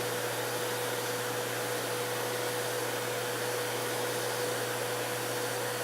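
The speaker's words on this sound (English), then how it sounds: "the air from the vacuum cleaner will suck the seeds into the holes" A vacuum cleaner sucks seeds into the holes of a plexiglass seeder plate with a constant, loud airflow whine that holds a steady tone and never changes.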